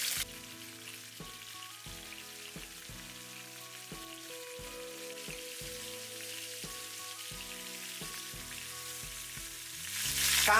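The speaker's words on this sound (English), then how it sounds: "start searing the pork ribs." Pork spare ribs searing in hot vegetable oil give a steady, soft sizzle throughout, under background music with regular plucked notes. The crackle swells louder near the end.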